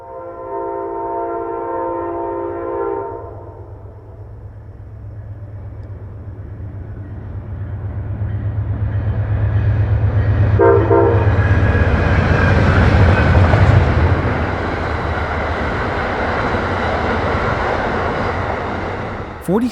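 An Amtrak train on the Keystone Corridor sounds a loud horn blast at the start, then rumbles past a station under construction in winter, its roar swelling as it nears, with a second brief horn note midway through.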